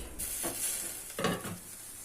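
Quinoa patties sizzling in a pan with a couple of scraping stirs, each a brief rasp over the constant hiss of frying.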